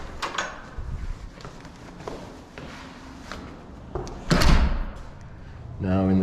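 An interior door on self-closing hinges swings shut, its latch clunking into place with a brief thump and rattle near the end of a stretch of quiet household shuffling and soft knocks.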